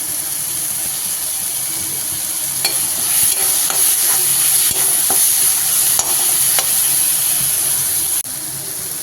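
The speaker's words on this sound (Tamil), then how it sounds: "தக்காளி வதங்கும் போதே புளியும் சேர்த்து வதக்கிக்கலாம்" Tomatoes and tamarind sautéing in a pan for black urad dal chutney, a steady close hiss of frying with several sharp scraping stirs of a spatula scattered through, no voices.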